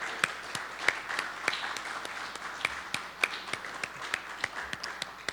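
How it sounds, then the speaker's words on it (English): Audience applauding students who stand during a media criticism award event, with steady scattered clapping across the room, moderately loud throughout. "Students, can you stand so we can applaud you and thank you for being here?"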